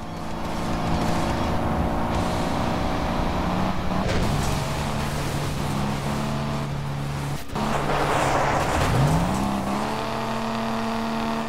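Car engine in the driving game Crash Time 5 holds a steady loud drone with stable harmonics throughout, dipping and climbing again as it revs up, with brief swells around the middle and near the end.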